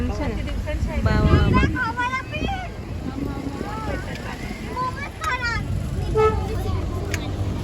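Busy Sunday road traffic near Ram Bagh, with car and vehicle horns tooting repeatedly over a steady rumble of engines while people talk nearby.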